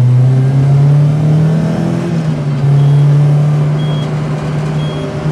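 A tuned Peugeot 206 RC engine drones loudly at high revs while driven at circuit pace, a steady close in-car roar with a slight pitch dip midway and no talking.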